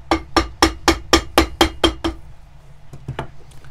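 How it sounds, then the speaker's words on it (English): A hammer strikes a boot's leather sole to flatten the stitches during restoration of an Allen Edmonds Fifth Street boot, eight sharp, evenly spaced taps close up, followed by a pause and a couple of lighter knocks. "so don't forget to hammer your stitches down"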